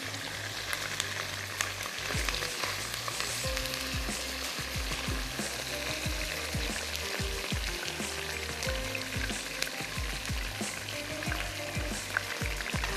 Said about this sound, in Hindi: चलिए मैं इसमें ऐड कर देती हूँ ये फ्राई हुआ हुआ चिकन।